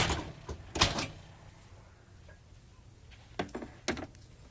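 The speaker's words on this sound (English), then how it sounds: "Oven door can also be removed for ease of cleaning." A few sharp clicks and clunks of an oven door being removed for cleaning, with a quiet gap between bursts.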